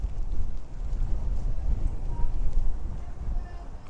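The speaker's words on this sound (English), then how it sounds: "It's pretty windy today." Steady wind buffeting the microphone on a street in Theydon Bois, Essex, U.K., a low continuous rumble with gusts rising and falling throughout.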